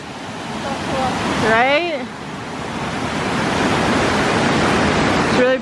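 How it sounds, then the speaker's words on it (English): High-water river rapids rush through Flume Gorge in Franconia Notch, New Hampshire, a loud, constant roar of churning water up close, while a person's voice speaks briefly over it near the start and again at the end. "Look at these rapids."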